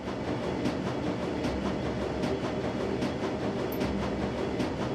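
A train in Shadowrun: Dragonfall gathering speed, a steady low electric rumble and whir with faint rhythmic rail clatter, continuous and even in loudness, no speech.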